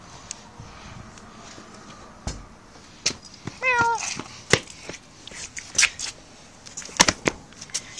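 A cat at a zoo gives a short meow amid scattered clicks, knocks and rustling, with quiet voices nearby.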